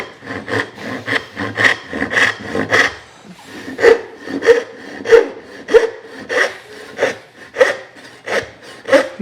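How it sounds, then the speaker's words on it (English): A hand saw cuts wood for a mitered dovetail joint, making close, loud, rhythmic rasping strokes in a steady back-and-forth pattern of about a dozen pulls and pushes. "We're going to saw from this point down to the gauge line."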